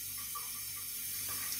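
Water runs steadily from a tap over a sharpening stone while a serrated knife is sharpened, producing a constant close hiss with faint scraping.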